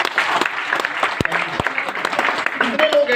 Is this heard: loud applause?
yes